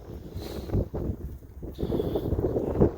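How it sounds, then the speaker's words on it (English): Gusty wind buffets the microphone outdoors beside a Scenicruiser 858 bus under repair, a low rumbling roar that swells and dips in uneven bursts across the whole span, with no talking. "Great, there's wind."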